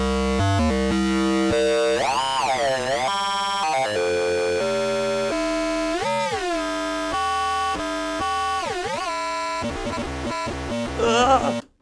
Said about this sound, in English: And then we have ring modulator, which gets like these really cool FM sounds.